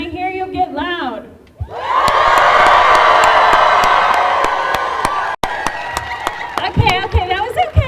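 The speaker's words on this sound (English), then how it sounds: "Can I hear you get loud?" A large crowd at a Utah transgender rally roars with loud, sustained cheering, whoops and shouting for several seconds, after a brief voice at the start, then breaks into scattered yells as it fades.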